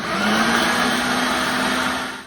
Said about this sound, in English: We're going to stick it in the food processor.